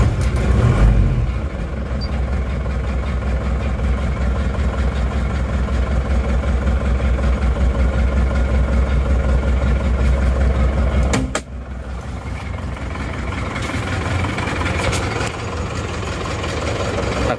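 An Isuzu Panther diesel engine idles cold just after starting, a steady loud low rumble with a slightly uneven shake, a brief dip partway through, then the same idle continuing.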